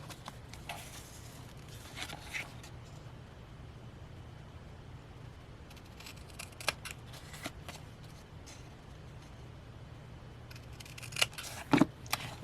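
Scissors snip the corners off leftover paper scraps for papercraft ephemera, giving faint, quiet, irregular snips and rustles over a low background hum, with no one talking.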